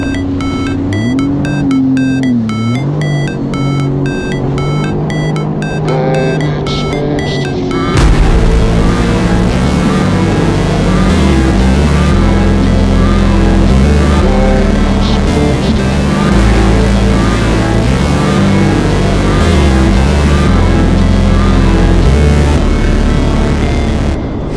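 A Sea-Doo personal watercraft engine runs on a test ride, a loud steady droning hum with strong harmonics that swells noticeably heavier about a third of the way through and holds there.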